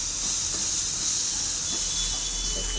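Ginger and garlic are stirred in a hot pan with a constant, close hiss of sizzling oil that does not let up.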